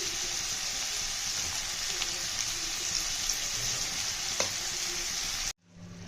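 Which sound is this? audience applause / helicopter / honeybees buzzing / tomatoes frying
tomatoes frying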